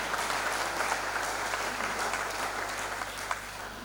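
Church congregation applauding during a sermon, a steady moderate wash of clapping from a room full of people, heard at a distance with a low hum underneath and no speech.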